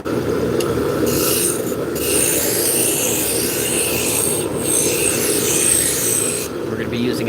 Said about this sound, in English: This is basically just to sand this taper here